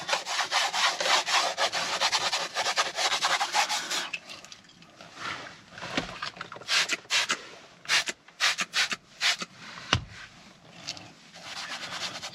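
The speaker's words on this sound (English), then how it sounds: "I'm literally just going to work that in, rub it off, dry it, shall I say, with the microfiber" Microfiber cloth rubbing cleaner into the dashboard of a Skoda Fabia vRS, with loud steady scrubbing strokes for about four seconds, then shorter, quieter rubs and wipes in uneven bursts.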